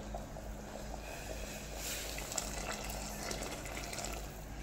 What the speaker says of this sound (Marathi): आता पहा इथे पाणी आपले गरम झालं आहे आणि आता ते ओतून घ्यायचं आहे